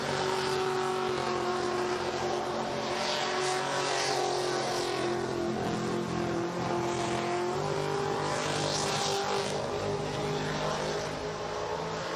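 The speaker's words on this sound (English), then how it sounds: "That little crackle as it comes to a stop." A blown, methanol-injected LS-engined street machine idles loudly and steadily nearby with a rough, rumbling drone, no voices over it.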